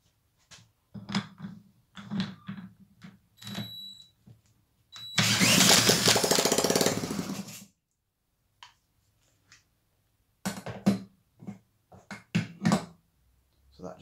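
A carburetted engine fires briefly, then runs roughly for about two seconds before cutting out, surrounded by scattered clicks, knocks and short cranking attempts, close and with no talking.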